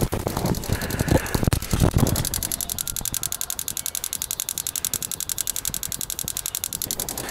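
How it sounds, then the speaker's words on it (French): Rapid, even mechanical clicking from a pulsing fuel injector, heard close up, with rustling and handling noise at the start before the steady ticking continues alone. "Ça, c'est le bruit de l'injecteur qui fait clic, clic, clic, clic, clic."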